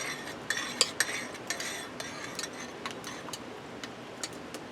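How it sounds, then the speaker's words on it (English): Spoon stirring a pot outdoors on a back step in winter, quiet irregular metallic clinks and scrapes against the pot, close by with no talk. "Give her a stir"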